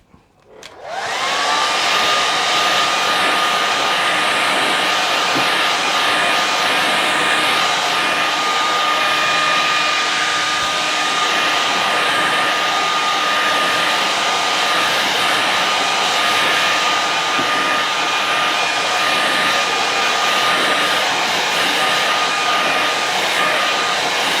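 A hair dryer runs continuously and loudly close by, drying a watercolour painting of loose lakes and mountains; a steady whooshing roar switches on in the first second and holds unbroken to the end, with no talk.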